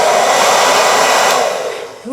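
A handheld hair dryer blows steadily through a CIC Beauty universal diffuser attachment, a loud, continuous airy whoosh that holds for about two seconds before winding down.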